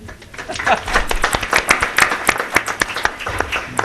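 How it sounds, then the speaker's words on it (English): Scattered audience applause at a park district board meeting, a modest number of hands clapping in distinct, uneven claps that sound close and sparse rather than a dense roar, with some voices in the room. "if anybody would like to give you some applause, they can."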